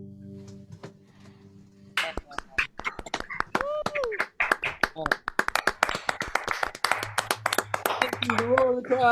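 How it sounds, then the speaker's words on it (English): Audience clapping breaks out after a live folk-blues song, a dense burst of handclaps with a whoop or two, close and loud, lasting several seconds after a brief instrumental ending. "The roar of the crowd."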